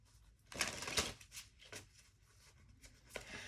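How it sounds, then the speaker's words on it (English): Close, quiet riffling of playing cards being shuffled on a knee, with a couple of louder ruffling bursts and light tapping, no voices. "the bad habit I do of shuffling cards on your knee"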